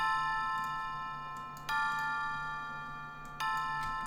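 Bright Omnisphere synth bell pad tones ring out on their own, struck three times at even intervals, each chime sustaining and slowly fading before the next.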